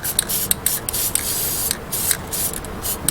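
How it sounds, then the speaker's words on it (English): Battery terminal protector spray on a 1.9 Ford Escort's battery connections, heard as a run of short hissing spray bursts, close and fairly quiet, with no talking. "Couple quick sprays."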